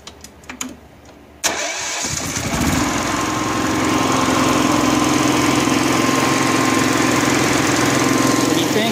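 A few clicks and pulls, then the small engine of a Honda generator/welder with fuel issues catches and starts, settling into a steady, loud running drone close by.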